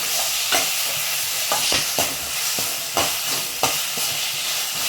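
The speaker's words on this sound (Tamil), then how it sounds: "தேங்காய் போட்டதுக்கப்புறம் எல்லாம் ஒன்றா சேர்த்து மிக்ஸ் பண்ணிக்கோங்க" Onion, tomato and grated coconut fry together in a pan while a spoon stirs them, a loud constant sizzle broken by repeated scraping knocks of the utensil against the pan, with no voices.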